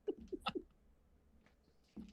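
A human voice mimics a cat's meow during a tabletop roleplaying live play session, a few short, squeaky, nasal mews in quick succession followed by a brief faint sound after a pause.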